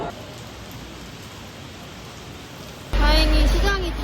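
Heavy rain falls as a steady, dense hiss for about three seconds, then a nearer, louder burst of noise takes over, with a voice talking briefly over it.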